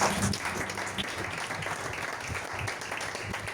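Congregation applause in a church service, a dense, steady wash of many hands clapping throughout, moderately distant and filling the room with no clear pauses.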